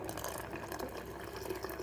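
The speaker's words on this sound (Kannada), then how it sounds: "ಮಿಕ್ಸಿ ಜಾರ್ ತೊಳೆದ ನೀರನ್ನೇ ಹಾಕ್ತಾಯಿದ್ದೀನಿ" Rinse water from a mixer jar is poured into a pot of banana stem sambar with dal and ground masala, giving a soft, steady, close liquid trickle that runs briefly with no speech.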